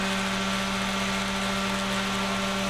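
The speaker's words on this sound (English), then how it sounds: "And sand some more." A power sander works wood for a cigar box guitar, a steady high whine over a rough hiss, held close and constant before cutting off at the end.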